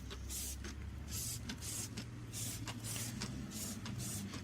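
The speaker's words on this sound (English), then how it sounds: "just the pressure from the spray nozzle is enough to push the dirt away" A spray nozzle hisses in repeated short bursts, spraying water on a car wheel, against a steady low mechanical hum, fairly quiet and close.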